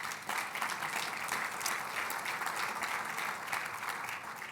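An audience at a Northern Virginia technology business event applauds, a dense, steady clapping that holds for several seconds.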